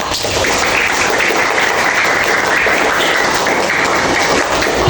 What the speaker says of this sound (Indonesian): Tepuk tangan buat Mbak Ri.